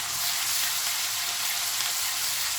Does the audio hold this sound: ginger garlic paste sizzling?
yes